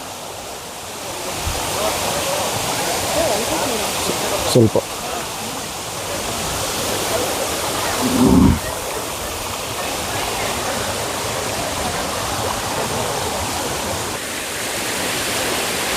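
Steady broadband roar of Abbi Gundi Falls, a waterfall in a forest near Sakleshpur, continuous and full throughout, with a person briefly speaking over it and a couple of short bumps.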